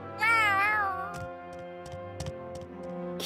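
A cat in Tales of Arise lets out a single drawn-out, rising-then-falling meow, clear and close, followed by a few soft ticking clicks against a quiet sustained tone.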